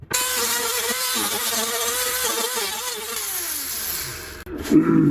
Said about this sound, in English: So let me get the hood on, and we'll start to grind a little bit.